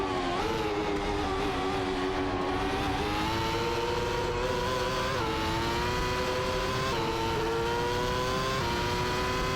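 Race car engines in a video game whine at a steady high pitch and rise in stepped shifts, with a constant loud drone throughout and no pauses.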